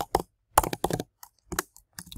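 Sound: typing on a computer keyboard

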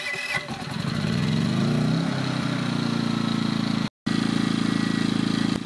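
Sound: EcoFlow 1800W petrol inverter generator starting and running

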